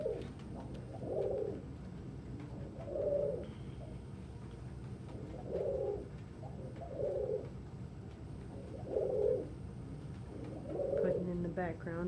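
Pet pigeons or doves coo in soft, evenly spaced phrases, about six rounds repeating every two seconds, fairly faint and close in a quiet indoor space with light background noise.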